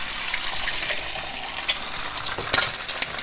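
An egg drops into about a tablespoon of hot oil in a small frying pan over medium heat. A steady, close sizzle runs throughout, with a sharper crackling burst as the egg hits the oil.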